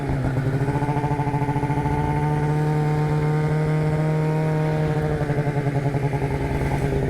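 An RMK snowmobile engine revs hard and steadily while climbing, a loud, close buzzing drone with a rough pulsing texture that holds for several seconds before easing slightly near the end.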